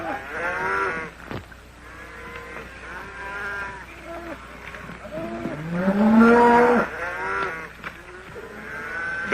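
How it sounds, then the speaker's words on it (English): Cattle lowing on an open western range, several deep moos rising and falling one after another, fairly close and loud, with some bleat-like calls among them. "Here comes the cattle."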